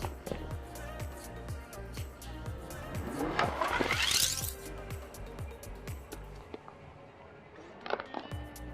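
A car rolls with its paint-covered tire over a blank canvas, its engine note rising in a sweeping rev that peaks and fades, over steady rhythmic clicking and a busy background bed.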